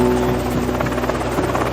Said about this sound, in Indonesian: mereka sekarang melihat pesawat datang untuk menjemput mereka